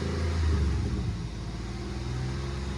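The 3.0-litre engine of a Ford Capri 3.0 Ghia barn find is revved once. It gives a deep, close rumble that swells briefly and then settles to a steady idle.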